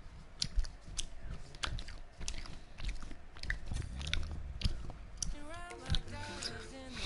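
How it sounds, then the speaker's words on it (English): Gum is chewed very loudly close to a microphone, wet smacking and clicking bites in an irregular steady rhythm, with a voice speaking briefly near the end. "I'm just chewing my gum really"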